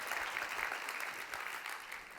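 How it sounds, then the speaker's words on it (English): An audience at a business conference applauds in a dense, continuous patter of clapping, moderately loud and unbroken over the short stretch. "Can you give a round of applause for being on our list for 12 years?"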